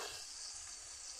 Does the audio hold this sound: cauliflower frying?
yes